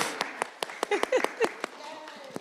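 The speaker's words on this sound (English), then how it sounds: "y'all gonna have to clap or something" Scattered, irregular clapping from a small audience at a school board meeting, with about a dozen distinct claps mixed with voices and a cheer.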